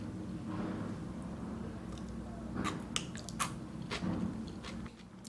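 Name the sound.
biting and chewing a sea bean (salicornia)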